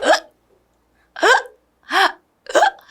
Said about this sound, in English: What are hiccups and how do we stop them?